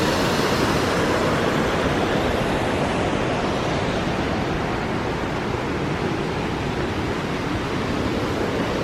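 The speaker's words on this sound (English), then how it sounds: "mighty Merced River. Right now it's the driest time of the year and it's barely its own glory. But still flowing." Steady, dense rushing of the Merced River in Yosemite at low dry-season flow, constant and broad without breaks, filling the whole scene.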